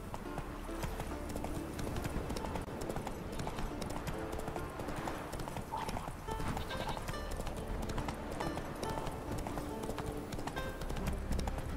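Roach, a horse in The Witcher 3 game, gallops with fast, continuous hoof clip-clop under game music and ambience, with a faint whinny along the way.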